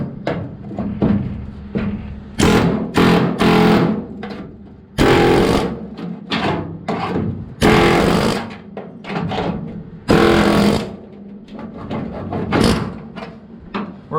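Pneumatic air chisel hammering and cutting away the rusty front firewall of a 1960 VW Beetle, loud close bursts of rapid chattering that start and stop repeatedly, with metallic rattles between.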